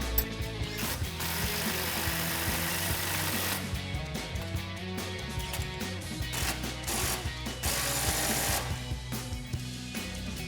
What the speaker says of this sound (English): tighten them down with our 18 millimeter socket and our 18 millimeter wrench